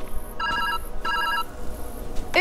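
A telephone rings in the video game Viewfinder, two evenly spaced electronic bell trills, loud and close, followed by a brief chirping tone at the end.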